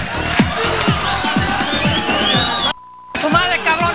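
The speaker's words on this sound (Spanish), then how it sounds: "Un aplauso para Luis, que venga adelante." A loud crowd cheering and clapping, with shouts and whoops rising over the applause, briefly cut off before resuming.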